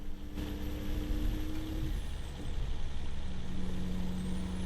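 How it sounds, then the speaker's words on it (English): Truck engine with a turbo in the Farming Simulator 15 video game, a steady loud droning rumble with a faint high turbo whine, running continuously without talk. "I do like the way this truck sounds"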